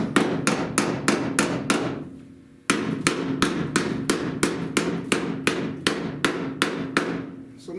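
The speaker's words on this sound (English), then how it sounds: "So now I can hammer that down" Steady, loud hammer blows strike a sheet metal panel to flatten it flush during a rusted windshield channel repair, about twenty sharp metallic hits in a quick even rhythm with one brief pause, close up and no talking.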